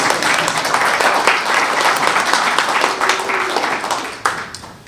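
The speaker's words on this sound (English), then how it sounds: "let's give them a round of applause anyway" An audience at an amateur radio club meeting breaks into steady, dense applause for newly licensed hams, a continuous wash of clapping that tapers near the end.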